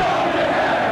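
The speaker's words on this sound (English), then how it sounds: "They are absolutely taunting him, a group of about 75 or 85 fans. They're yelling" A wrestling crowd of roughly 75 to 85 fans jeering and yelling at a masked wrestler, a brief wash of loud, steady group shouting.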